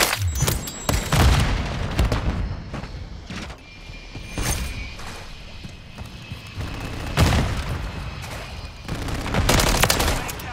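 Bursts of gunfire in Call of Duty Modern Warfare 3 multiplayer on the Rust map, sharp separate cracks and short volleys scattered across the stretch, some close and loud, others more distant, with faint game noise between.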